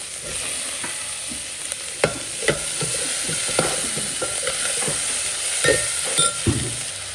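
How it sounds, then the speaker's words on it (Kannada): Tomatoes go into a hot pan of roasting poppy seeds and sizzle steadily, with several sharp scraping clicks from stirring spread through it; close and loud, with no talking. "ಟೊಮೊಟೊ ಹಾಕೋಬಿಡೋಣ ಇವಾಗ"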